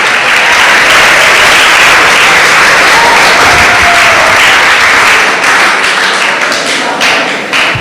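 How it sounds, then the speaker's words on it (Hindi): Loud, sustained applause from a school audience welcoming an honoree being recognised at an award ceremony, a dense steady clatter of clapping that fades slightly toward the end, with no talk. "हम सभी जोरदार तालियों से स्वागत करेंगे"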